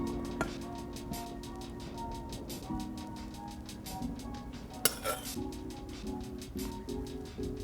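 A spoon clinks against a baking dish while sauce is spooned onto stuffed pasta shells, with repeated light metallic taps and one sharper clink midway, quiet and close.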